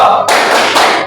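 A classroom group doing a thumb clap together, a brief burst of tapping and clapping that fills the short clip, loud and close, with two surges of sound and no talk.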